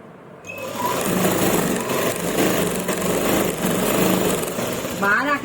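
Sewing machine stitching a shirt, a loud continuous mechanical whir with a fast steady rattle that runs close up for about five seconds, while a voice speaks over it.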